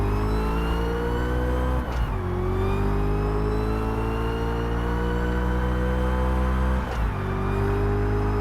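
In the racing game Test Drive Unlimited Solar Crown, a car engine drones loud and steady, climbing through the revs with two brief gear-shift dips, mixed with background music.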